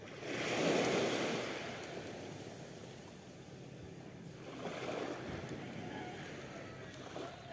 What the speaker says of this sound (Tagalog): Dito na tayo sa tabing dagat mga karesbak,